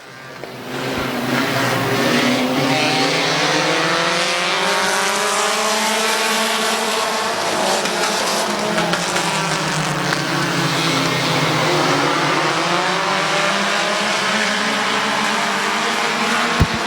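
Race cars roaring around Midvale Speedway, a loud sustained engine howl with pitch rising and falling as the pack passes, heard from near the track with no talk over it.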